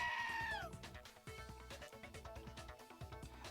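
A sheep bleats loudly at the start, a wavering cry that fades after about half a second, followed by a busy run of rhythmic clattering game sound effects.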